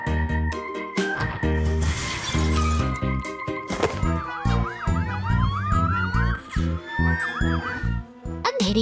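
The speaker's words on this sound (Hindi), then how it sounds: "पुलिस की गाड़ी शांत अंधेरे में हर आवाज को ध्यान से सुनते हुए धीरे धीरे गश्त करती है।" A police car siren wails in rising and falling sweeps while the car patrols slowly through a dark city, mixed with music and knocking effects of a cartoon soundtrack.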